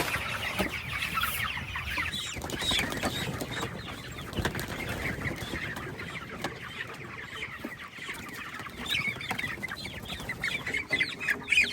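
A flock of farm chickens clucks continuously on pasture, many birds overlapping with occasional wing flaps, steady and fairly close with no talking.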